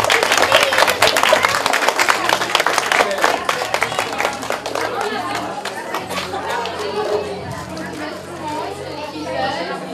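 Audience at a children's award ceremony for a kindergarten group claps in a dense, loud burst that gradually thins out, with crowd chatter and children's voices mixed in throughout.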